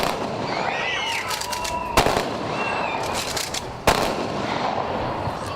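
Two sharp commemorative gun volleys crack out about two seconds apart over a noisy outdoor crowd on a square, loud and echoing across the open space.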